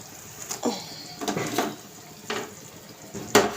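Pieces of fried fish are added to a boiling curry in a pan, producing a few splashy clatters and stirring noises over a low bubbling background, close by.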